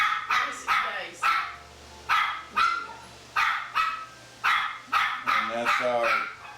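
Two dogs, Gracie and Daisy, bark in a quick run of loud, close barks, about ten bursts in a row with a whine near the end, a voice talking underneath.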